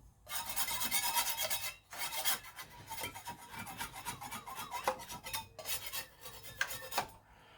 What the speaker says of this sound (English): I got my putty knife. You clean up this gasket face here